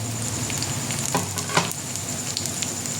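Chopped tomato going into a hot pan of mutton tarka with garlic, a steady loud sizzle and frying hiss throughout, with a couple of brief stirring scrapes.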